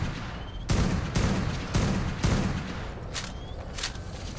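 Sniper rifle fire in a video game, several loud, sharp booming shots at irregular intervals, each ringing out with a short echoing tail over a steady background hiss, with no voices.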